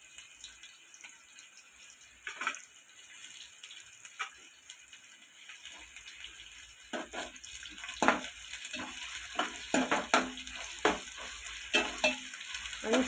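Chicken fries in plenty of oil with ginger garlic paste and curry leaves, a continuous crackling sizzle that grows busier and louder, with stirring scrapes and spatters toward the end.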